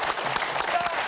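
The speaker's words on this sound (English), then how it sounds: "A spontaneous round of applause." A spontaneous round of applause breaks out in the Celebrity Big Brother house, a brief burst of steady clapping from a small group at close range.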